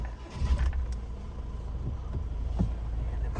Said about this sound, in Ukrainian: Зараз ми заведемо автомобіль, друзі, слухайте, як легко він заводиться.